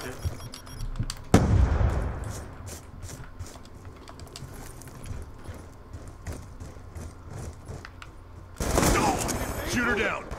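Gunfire from Call of Duty Black Ops 2 multiplayer, with bursts and rapid crackling shots running through the clip, loudest near the start and again toward the end, amid game noise.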